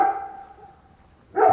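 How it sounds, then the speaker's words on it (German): A dog barks once, fairly close, in a winter residential settlement near Çolaklı, Side, Turkey; after a faint lingering tail and a short quiet gap, a second, louder bark cuts in at the end. "Und hier sieht man Hunde."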